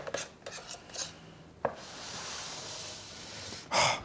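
A baked prosciutto pizza scrapes and slides off a metal baking tray with a rasping, gritty rub. Before it come several short clatters, then a sharp knock and a steady scraping, ending in a louder scrape. No one talks.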